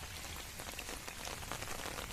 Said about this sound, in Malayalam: ഫസ്റ്റ് ഓപ്പണിംഗ് ആണ് അല്ലേ തുടങ്ങിയിട്ടേ ഉള്ളൂ മഴ